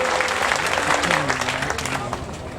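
Audience applause at a Jamiat Ulama-e-Hind gathering in Bihar, a dense steady patter of many hands clapping for the maulana, with a voice speaking over it throughout.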